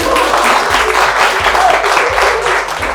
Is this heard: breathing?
no